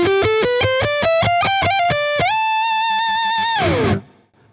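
A Kirk Hammett White Zombie ESP LTD electric guitar on the front pickup, with a warm, rounded tone: a quick run of plucked notes climbing upward, then one sustained note that rings out and fades.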